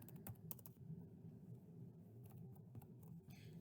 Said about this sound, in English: So I'm going to go ahead and type in my library card number